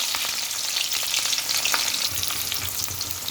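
Onions frying in hot oil in a kadai give off a loud, steady crackling sizzle with scattered pops, close up and with no talking.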